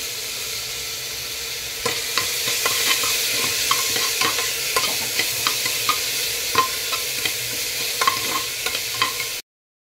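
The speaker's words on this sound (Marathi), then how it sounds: "कांदा भाजत आलेला आहे, त्याच्यामध्ये मी आलं लसूण पेस्ट घेतली 1 चमचा ते घालत आहे" Onions frying in a pan with a spoonful of ginger-garlic paste added give a steady loud sizzle, broken by regular spoon scrapes and taps against the pan, with no voices.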